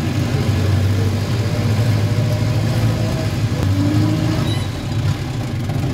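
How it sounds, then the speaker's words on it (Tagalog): A truck engine with a holed radiator runs steadily at a low, even rumble, unbroken and close by with no talk over it. "Magandang andar ng makina, no?"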